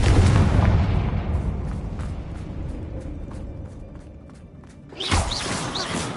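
A Confringo fire spell bursts in Hogwarts Legacy with a deep rumbling explosion that slowly fades, followed by a second sharp blast near the end.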